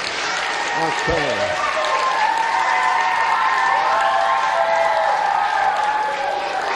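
Applause from an audience of children and adults fills a school Christmas magic show, steady loud clapping throughout with a voice briefly speaking near the start.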